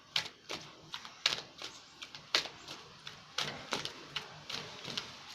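Tarot cards being shuffled close up, giving a run of sharp, irregular riffling snaps and taps, some in quick clusters, over a quiet room.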